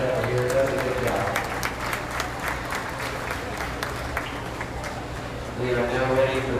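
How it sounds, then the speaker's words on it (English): An audience claps at a beef cattle show after a young exhibitor shows her heifer, a steady sustained patter of many hands in a large space, with a voice over a public address system at the start and end. "Let's give this young lady a round of applause."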